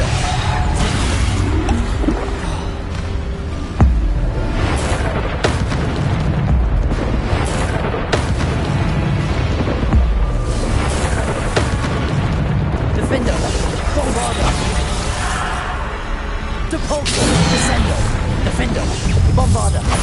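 Bombarda spell explosions go off in Hogwarts Legacy amid other spell effects and game music, a dense, continuous rumble of booms and bursts at steady loudness with occasional sharper hits.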